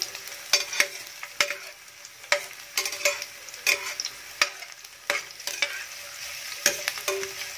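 Garlic frying and browning at the side of a pan while crab is cooked in coconut milk, with a constant hiss of hot oil broken by frequent sharp clicks and taps from stirring.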